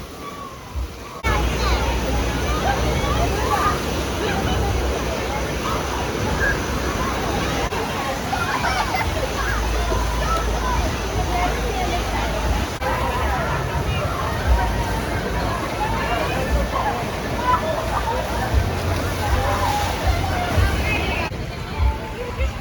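Water jets and splashing wash steadily around an amusement park rescue boats ride, a loud continuous rush with background crowd chatter throughout.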